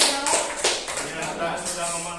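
Applause from a teachers' gathering at an Indonesian school training session, a scattered patter of claps mixed with voices and room noise, moderately loud.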